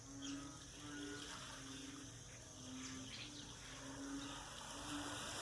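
Muddy floodwater pours over a river embankment in Lom Sak during September 2021 flooding, a faint, steady rushing wash heard from a distance without speech.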